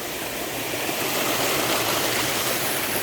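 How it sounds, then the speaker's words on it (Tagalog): A mountain stream rushes and splashes over rocks, a loud, steady broadband gush close by with no voices. "Oh, ang lagaslasan ng tubig"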